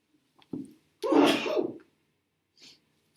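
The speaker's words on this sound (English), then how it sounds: "Here comes a sneeze." A single sharp sneeze bursts out loud and close in a quiet classroom, preceded by a short inhale catch and followed by a faint trailing sound.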